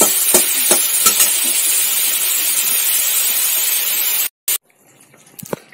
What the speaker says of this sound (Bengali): আর এবার আমি ডালটা একটু ঘেটে নেব